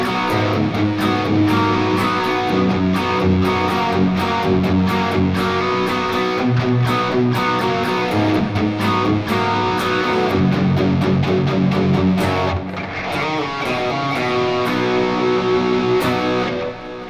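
Electric guitar played through a Walrus Audio Ages overdrive pedal on its fifth, most modern setting, recorded with no amp: a loud, continuous run of distorted chords and notes, with a brief dip near the end.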